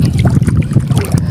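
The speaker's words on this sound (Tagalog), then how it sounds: "Ang lakas na ng hangin." Strong wind buffets a boat out at sea, a steady low roar of gusts with faint splashing water underneath.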